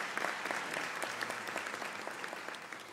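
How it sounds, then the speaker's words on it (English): Graduates and guests applaud at a university graduation ceremony, a continuous, even round of clapping from a large crowd that carries through the whole moment at moderate loudness. "I think that deserves a round of applause."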